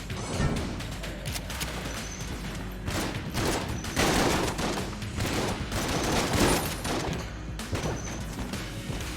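Rapid shotgun blasts from a shotgun-shell gun combo in Enter the Gungeon, fired repeatedly in quick irregular bursts with impact crashes, loud and continuous over busy game sounds.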